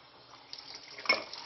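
Water pours briefly into a container, a soft trickle that swells into a short splashy burst near the end, close but quiet.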